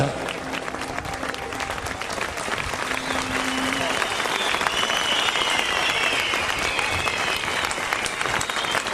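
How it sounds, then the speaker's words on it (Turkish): An audience applauds after a poetry recital, a dense, sustained wash of many hands clapping that holds steady and fairly loud for the whole stretch. "Ayakta alkışlarsanız sevinirim biliyor musunuz?"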